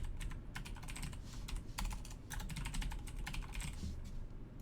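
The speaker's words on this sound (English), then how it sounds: "So I'm going to clear these out and type in our variable names." Computer keyboard clattering under quick, irregular typing, close but quiet, with no voices.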